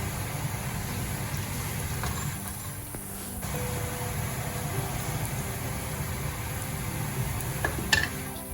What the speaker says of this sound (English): now I'm going to saute my 3 cloves of garlic. That's chopped garlic.